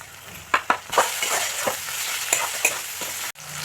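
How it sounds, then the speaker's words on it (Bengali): Chopped tomatoes go into frying masala of chili, ginger and garlic paste for chole, making a loud, continuous sizzle with several sharp clacks and scrapes of a spoon against the pan, and no talking. "তো বন্ধুরা মশলাটা ভালো করে কষিয়ে নিয়েছি, তো এর মধ্যে টমেটো কুচি দিয়ে দেব।"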